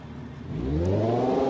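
The Behemoth, a homemade four-axle truck built on a LeGran car in BeamNG, revs its engine with a rising, clattering whir that swells louder and climbs in pitch over about a second, with no speech.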